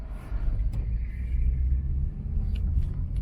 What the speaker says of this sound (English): Wow, you're racing in 10-wheelers in this narrow road?